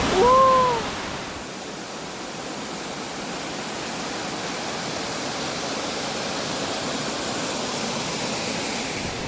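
Steady, close roar of a waterfall in a mountain stream after rain, a dense continuous rush; a brief high chirp or squeak sounds at the very start.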